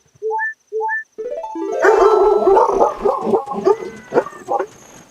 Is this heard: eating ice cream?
no